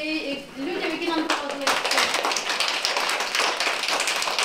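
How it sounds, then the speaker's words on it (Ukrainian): Schoolchildren clap together during an excursion visit to a restaurant. A voice speaks briefly at first, then dense, lively applause starts and continues steadily and loudly to the end. "Віддайте оплески"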